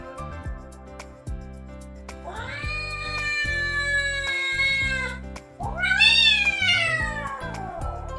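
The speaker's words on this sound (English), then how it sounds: "It's a black cat." A cat meows twice in long, drawn-out cries, close and clear, over a steady low rhythmic background.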